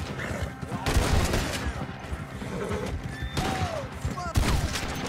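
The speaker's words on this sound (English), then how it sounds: "Shotgun puts in work, baby." Shotgun gunfire in Red Dead Redemption 2 gameplay: several loud booming blasts with echoing tails over busy game noise, mixed with a chaotic clatter of other sounds.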